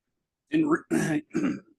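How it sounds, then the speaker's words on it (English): Three rough throat clearings in quick succession, close and fairly loud, separated by brief silences. "everybody's going to hear me clear my throat 50 million times"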